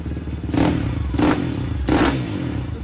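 A tuned CRZ 140 pit bike engine with a prepped cylinder head, cam and 28 mm PWK carburettor revs three times in quick, evenly spaced blips over a steady idle, close and loud with no talk.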